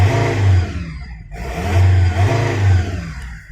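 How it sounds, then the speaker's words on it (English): Diesel engine of a Volkswagen Multivan, warmed up after running about ten minutes, revved three times in close succession, each rise swelling loud and close before dropping back, with no talking. "It's been running for about 10 minutes, so I can rev it now."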